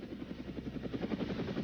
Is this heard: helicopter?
yes